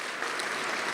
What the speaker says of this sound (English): Can we get another round of applause for all the judges?